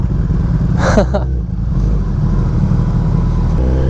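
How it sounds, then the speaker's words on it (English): A Kawasaki ZX-10R sport motorcycle with about 310 miles on it idles loud and close with a steady low rumble and one brief rev, heard on its first ride. "All right, first ride of the ZX-10."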